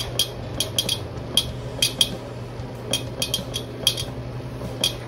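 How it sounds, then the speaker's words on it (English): Saladmaster cooking pot vapor valve clicking over chicken adobo simmering on the stove, a steady series of light metallic ticks repeating every half second or so over a low background hum. "Now you hear the vapor valve starts clicking."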